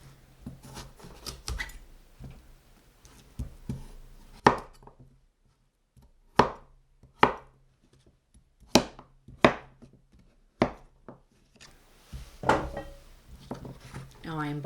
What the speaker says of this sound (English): You can just cut out any extra stringy bits.